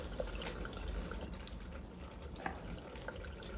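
Tap water runs steadily into a kitchen sink over a pressure cooker being cooled, a faint constant splashing hiss with a few small drips and clinks.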